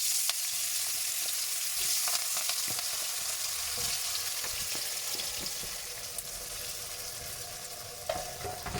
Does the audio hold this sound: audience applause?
no